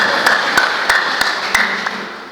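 Men of a church congregation clap for God during a Sunday morning service. The claps come in a loud, regular rhythm, about three per second, with a faint murmur beneath.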